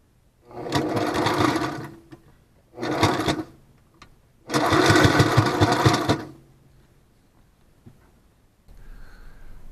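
A sewing machine stitches welting onto fabric bike pogies in three close, loud bursts of rapid motor whirring, separated by short pauses, then falls quiet.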